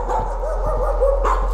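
A dog barks and yips in the horror video game Layers of Fear, several short close barks in quick succession over a steady low hum.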